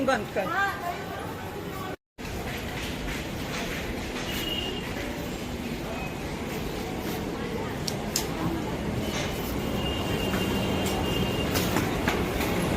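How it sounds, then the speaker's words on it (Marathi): A Mumbai suburban train rumbles steadily along the rails with rhythmic clatter and occasional squeals, loud and continuous, with a brief dropout near the start and faint voices underneath. "तर चला तर ट्रेन पकडूया इथून"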